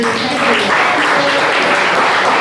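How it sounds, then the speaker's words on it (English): Loud, sustained applause from an audience, a dense wash of clapping that carries on throughout. "Just want to give you guys a big round of applause and thank you."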